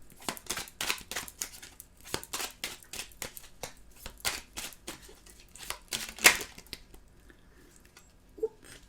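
Tarot cards are shuffled by hand in a quick rhythmic series of papery riffles and slaps, close and fairly quiet, with a sharper snap near the end and no speech.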